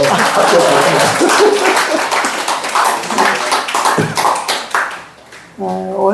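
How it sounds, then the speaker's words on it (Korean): Audience clapping at a church service: a burst of close, distinct hand claps from a small group that fades out, followed by a voice speaking. "박수를 쳐야 나온대요"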